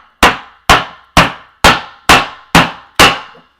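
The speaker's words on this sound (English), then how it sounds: "grab a piece of plywood, put it on top of it, kind of firmly so it's like same level, and just hammer it down" A hammer drives down onto a piece of plywood laid firmly on top, seven sharp evenly spaced blows, close and loud, each with a short ringing decay.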